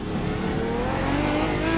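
A GT2 Ford GT race car in iRacing, its engine droning loudly and steadily with a rising pitch as it accelerates, alone without talk.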